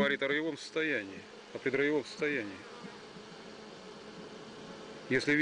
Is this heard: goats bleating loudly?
no